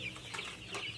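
Farm chickens clucking in a short burst of soft, close calls, with no one speaking over them.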